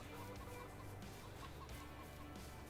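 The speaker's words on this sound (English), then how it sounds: "Chickens doing their thing." Chickens in Farming Simulator 22 clucking faintly under a constant farm ambience, with soft scattered clucks and no talk.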